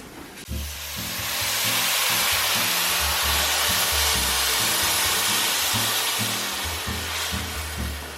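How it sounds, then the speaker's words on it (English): Stock poured into a hot pan to deglaze browned fond for a Thai curry with turkey and coconut cream: a loud, steady steamy hiss holds for several seconds over a low droning hum, with no talking. "so we wanna deglaze that before it gets burnt there"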